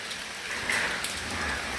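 Heavy rain pours steadily during a storm in Chavakachcheri, Jaffna, a dense, even hiss of drops on surfaces with no voices.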